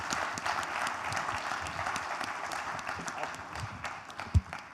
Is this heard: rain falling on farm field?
no